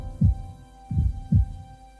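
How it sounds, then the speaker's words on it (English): Heartbeat effect from The Alchemist of Ars Magna video game: low, close pounding thumps, one early and then a quick pair later, over a soft steady hum. "He can hear his heart pounding."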